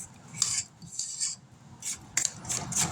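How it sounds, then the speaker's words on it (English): A utensil scrapes around the sides of a mixing bowl of sugar cookie dough, a few short close rasping strokes in separate bursts with quiet gaps between them. "Scrape down the sides of the bowl."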